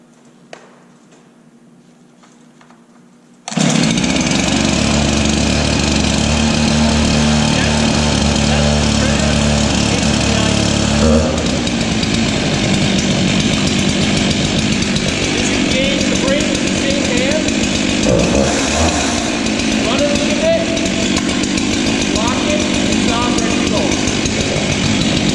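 A chainsaw starts after a pull and roars continuously at close range for over twenty seconds, its engine rising and falling slightly at high revs, with a quiet moment before startup.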